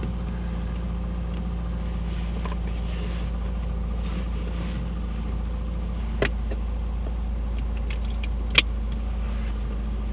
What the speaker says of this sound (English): A nice good old high idle, but the auto choke does work.